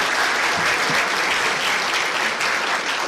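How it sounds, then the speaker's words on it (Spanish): Steady, dense applause from an audience at an international symposium on ethics in clinical trials, filling the room evenly for a few seconds without speech over it. "Bueno, un aplauso a David."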